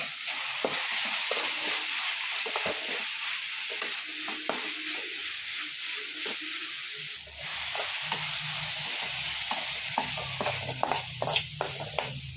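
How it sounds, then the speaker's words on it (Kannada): Close, steady stirring and scraping in a pan of tomato cooked with garam masala, chili powder and turmeric for egg bhurji, with a soft sizzle of frying underneath and irregular spoon knocks throughout. "ಎಲ್ಲ ಹಾಕಿ ಮಿಕ್ಸ್ ಮಾಡ್ತೀನಿ"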